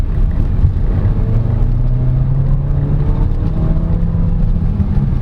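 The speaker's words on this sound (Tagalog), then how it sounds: "So finally, after years, I finally got to drive the Peugeot 508 again." A 2022 Peugeot 5008 Allure facelift being driven, a steady low engine and road rumble from inside the cabin that holds an even level throughout, with no talking.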